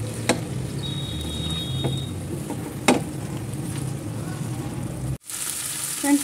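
Potato and cauliflower sabzi with garam masala and fresh coriander cooks in a pan, a soft steady sizzle with a few light clicks of stirring.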